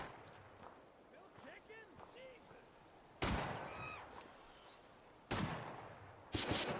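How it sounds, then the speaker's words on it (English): Gunfire in the video game Fallout 4 comes as three loud, abrupt bursts of shots and blasts over a quieter game background, with a voice talking in between. "Is something shooting from behind?"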